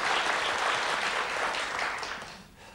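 Studio audience applause on the Hungarian game show Szerencsekerék: a dense, steady clatter of many clapping hands that fades toward the end, with no talk.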